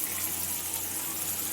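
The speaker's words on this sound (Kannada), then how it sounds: "ನೀರು ಹಾಕ್ತಾಯಿದ್ದೀನಿ." Water pours into a pan already holding a little coconut oil, mustard seeds, curry leaves and ground masala for a brinjal curry, making a steady, even rush throughout.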